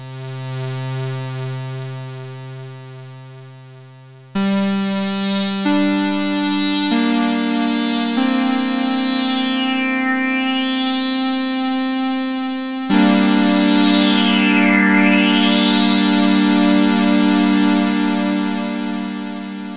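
A distorted Copperhead synthesizer on iOS plays sustained notes whose filter sweeps downward then back up on each note through a negative envelope, giving a scooping, inverted wah-like tone.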